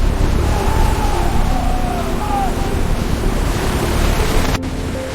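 Large waves break against a deep-sea fishing boat in a squall, a loud, close wash of surf and wind that roars steadily and then drops abruptly near the end, with shouting voices faintly over it.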